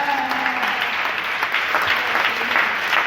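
A church congregation claps and cheers in sustained, dense applause, with scattered voices rising through it across the whole stretch.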